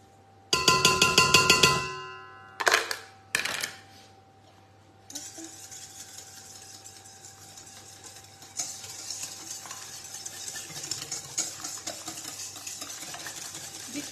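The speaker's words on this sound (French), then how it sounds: "on va mélanger 3 œufs avec du sucre" Three eggs are whisked with sugar for a sweet cake batter, starting with a few sharp clinks against the bowl and then settling into fast, continuous light tapping and scraping close by.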